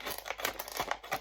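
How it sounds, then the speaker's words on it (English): Scissors cut straight down the middle of a lidded container to make a basket, producing close, rapid crinkling and crunching snips in an irregular rhythm, with no talking. "make sure I've got my scissors right around, straight down the middle, and then just very carefully"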